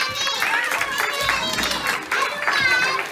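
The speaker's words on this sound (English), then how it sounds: "Another big clap for him" Clapping and cheering from an audience at a children's magic show, applauding a young boy, with loud cheerful voices and children shouting over the steady applause.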